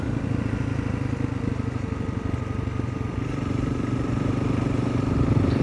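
A Honda CRF300 Rally motorcycle engine lugs along in fourth gear at low revs, a steady close mid-pitched drone with faint clatter, running alone without talk.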